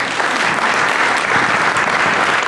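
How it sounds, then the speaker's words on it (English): An audience applauds steadily and loudly, a dense wash of clapping hands filling the room with no pause or voices on top. "Again, one more applause for"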